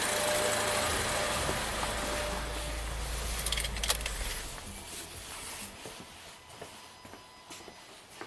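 An Acura RDX engine idles with a steady low rumble for about four seconds, then shuts off, leaving a quieter space with small clicks and light rattles.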